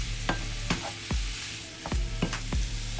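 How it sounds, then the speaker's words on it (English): Ground chuck and sausage with vegetables frying in a pan, a steady sizzle broken by about six sharp scrapes of a spoon or spatula stirring the mix, close and fairly loud, with no voices. "I'm gonna get it well incorporated, get the veggies incorporated throughout the meat."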